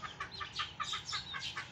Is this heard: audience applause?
no